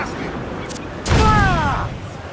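A ship's cannon fires once in Assassin's Creed 4 Black Flag, a loud broadband blast about midway through with a short rumbling tail, over steady wind and sea ambience, with a voice briefly over it.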